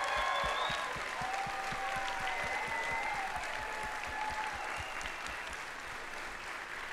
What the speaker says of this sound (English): Can we thank Marilyn, our voice teacher,